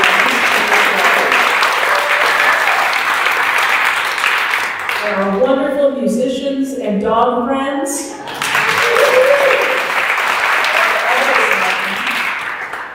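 A church congregation at a Sunday service applauds a guest speaker in steady, loud clapping that pauses for a few spoken words from a host, then swells again.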